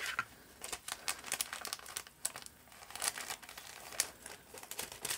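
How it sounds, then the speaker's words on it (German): A crinkly plastic bag is handled, giving irregular bursts of crisp rustling and crackling at close range over about five seconds, with no speech. "Achtung, Knistertütenalarm."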